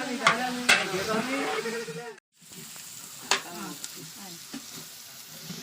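Onions for ghee rice sauté in a pan at a village housewarming, a close continuous frying sizzle with sharp stirring clicks and a brief dropout midway, and faint voices murmuring in the background.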